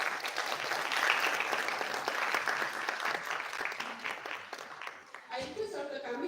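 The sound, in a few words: audience applause welcoming speakers to the desk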